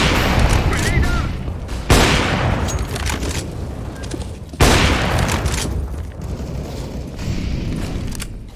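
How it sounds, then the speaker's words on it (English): Grenade explosions and gunfire in a video game, two sharp loud blasts with long decaying rumbles among scattered shots, close and dominant. "Throwing fire. Grenade out!"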